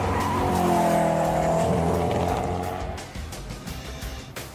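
Koenigsegg Agera supercar at speed: loud, close engine roar with rising harmonic tones and tire squeal, settling into a rougher, lower rumble toward the end.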